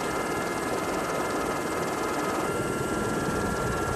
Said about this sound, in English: This is the Husqvarna of Dan Ashcraft and Dave Smith.